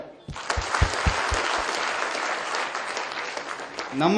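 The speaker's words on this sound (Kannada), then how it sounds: "ಮತ್ತೊಮ್ಮೆ ತಮ್ಮೆಲ್ಲರ ಪ್ರೋತ್ಸಾಹದ ಚಪ್ಪಾಳೆ" An audience at a staged comedy play bursts into sustained applause, starting with a few sharp separate claps before swelling into dense, even clapping that holds steady and loud throughout, with a brief voice rising at the very end.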